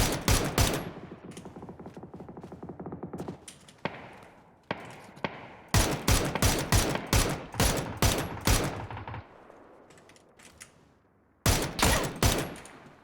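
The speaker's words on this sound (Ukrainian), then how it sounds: "Тут, тут біля мене так стріляли." Gunfire in PUBG, repeated loud bursts of rapid shots in clusters separated by short pauses, with automatic fire crackling close by over several seconds.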